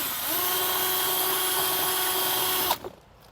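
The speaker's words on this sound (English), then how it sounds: "coming back with a 3/8 drill bit, and that's going to be just large enough for our brake controller to kind of pass through" A power drill with a 3/8 drill bit cuts a hole to fit a brake controller, a steady high-pitched whine lasting under three seconds before it stops sharply.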